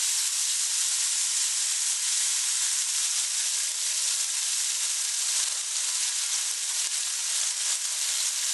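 A snack stirred in a sizzling pan makes a constant, loud, hissing sizzle that holds steady from start to finish, close up, with no voices.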